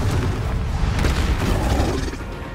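Confringo blasting spell explosion in the video game Hogwarts Legacy: a loud, rumbling boom with crackling bursts that swells and then slowly fades over a couple of seconds.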